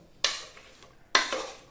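Pieces of nendran plantain, cut into quarters, being stirred in a pan with chili: two distinct scraping strokes a second apart, each fading into a soft sizzle, fairly quiet and close.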